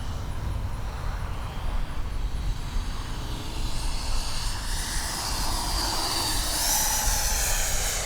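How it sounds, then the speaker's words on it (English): An Arrows RC F-15 model jet with a 64mm electric ducted fan flies overhead, its steady, loud, whooshing whine rising slightly as it passes, with no talking. "What a great flying F-15."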